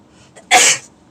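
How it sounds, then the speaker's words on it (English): A single close, loud sneeze: a brief intake breath, then a sharp explosive burst lasting about a quarter second in an otherwise quiet room. "Y'all gonna see me sneeze."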